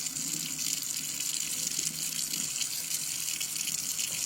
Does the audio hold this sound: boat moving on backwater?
no